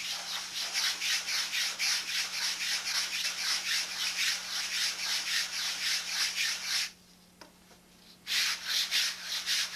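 Balsa wood ribs of a model aircraft being sanded with steady back-and-forth rasping strokes, close and fairly loud, pausing briefly before the rhythmic rubbing resumes.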